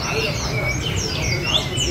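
Caged songbirds singing at a street noodle shop, bright chirps and whistled phrases close by, overlapping over steady background murmur and room noise.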